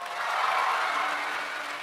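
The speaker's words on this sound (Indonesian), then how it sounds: "Semuanya tepuk tangan." An audience claps together in a short burst of applause at an indoor gathering, dense and fairly close, swelling then easing slightly.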